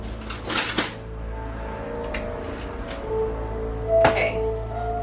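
Metal spoon clinking and scraping against dishes while serving beans in a home kitchen for an enchilada meal, a few bright close clanks at the start and another near the end over low background hum.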